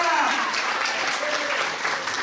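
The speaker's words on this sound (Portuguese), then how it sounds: "Pode aplaudir, que é isso que está com a vitória." Church congregation clapping during a worship service, dense steady applause filling the clip with a faint voice or music underneath.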